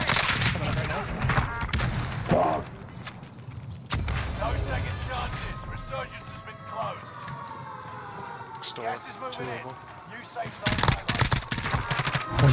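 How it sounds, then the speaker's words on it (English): Bursts of automatic gunfire from the video game Call of Duty: Warzone, on Rebirth Island, with an M16 in play, crack loudly at the start and end, with talking and game sounds in between. "I'm taking fire."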